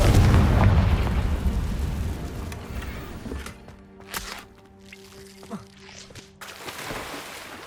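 A Confringo blasting spell in Hogwarts Legacy opens with a loud, rumbling explosion that slowly fades, followed by scattered pops, thuds and quieter ambient tones.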